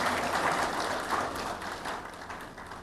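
An audience at a Ghanaian public event breaks into applause, a steady wash of many hands clapping throughout, with no talk.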